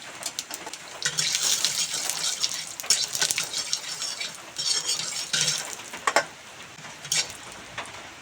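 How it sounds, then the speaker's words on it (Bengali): Panch phoron five-spice seeds tipped into a hot pan for Bengali aloo dum, giving a continuous close crackling sizzle with stirring and scraping of a utensil, a few sharper clinks, and no talking. "এখন পাঁচফোড়ন দিয়ে দেব।"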